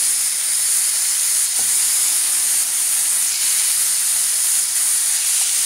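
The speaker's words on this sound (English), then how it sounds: "Tonight I am searing steaks on the flat top." Steaks searing on a flat top griddle, a loud, constant sizzle and hiss of fat and steam that stays even throughout, close up and with no voices.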